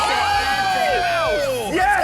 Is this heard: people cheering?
yes